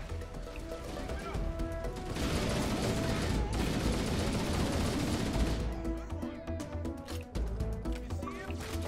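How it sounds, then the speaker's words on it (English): Gunfire in Halo: Combat Evolved, with dense game shots and bursts swelling loudest in the middle of the stretch, over a steady bed of game sound; a voice may be faintly present. "I'll go where the gunfire is."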